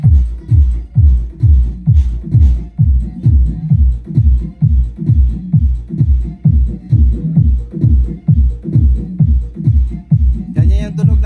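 Low-frequency bass pushed through a PX1800 four-channel power amplifier, a loud train of deep, evenly spaced thumping pulses, about two each second, with a faint brief noise near the end.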